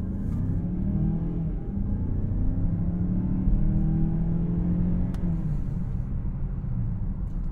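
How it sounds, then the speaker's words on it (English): Cabin of a 2023 Mazda CX-9 at full throttle, a steady engine drone and road rumble rising in pitch as it accelerates and then dropping after a shift, loud and continuous. "If you're interested in how a car sounds accelerating, that's the test we're going to do."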